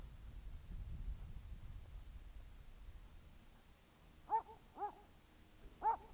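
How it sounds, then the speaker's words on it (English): A dog barks in the distance, three short, tonal yelps spaced about a second apart near the end, faint over a low, quiet background. "He hears the dog barking"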